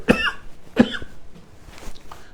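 Two sharp, close coughs come in quick succession from a lecturer with a cold, followed by a softer throat-clearing sound, in a quiet room.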